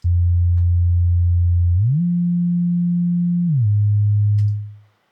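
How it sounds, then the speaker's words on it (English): A pure, smooth synth bass tone holds steady, steps up in pitch, then drops back down before fading out, with no other sounds. "And we're going to change the waveform to a sine wave."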